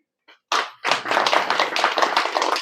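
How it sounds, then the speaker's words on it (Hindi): Audience clapping at a Brahma Kumaris spiritual talk, beginning with a single tap before swelling into sustained, fairly loud group applause that continues steadily to the end. "हाँ सभी बीच बीच में थोड़ा ताली बजाते रहेंगे।"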